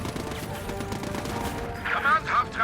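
A tank in Company of Heroes 2 takes a steady stream of gunfire, a dense battlefield rattle with mid-level volume and a voice talking over it.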